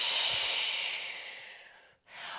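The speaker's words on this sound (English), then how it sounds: "and one more breath out" One long, steady breath out during a morning yoga flow, a close, airy exhale that fades out, then a fresh inhale begins.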